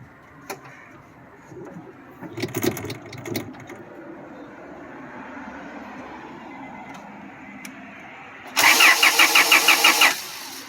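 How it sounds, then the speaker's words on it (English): Boosted Honda Accord being cranked over, with scattered faint knocks and a brief rumbling burst early, then a loud rapid rhythmic starter cranking near the end, close by. "Can you hit the starter?"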